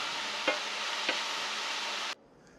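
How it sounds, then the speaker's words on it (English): Turnips sauteing in a pan, giving a steady, close hiss of frying with two brief clinks before the sound cuts off abruptly near the end. "Saute time is about 10 minutes."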